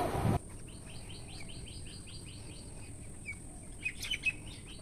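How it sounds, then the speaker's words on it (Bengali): Small birds chirp and tweet in the early morning, a series of light, repeated calls at moderate distance over a faint steady background hum, with a few brighter, nearer chirps near the end. "কি সুন্দর ডাকছে সকালবেলার এই পাখির আওয়াজ, খুব ভালো লাগে।"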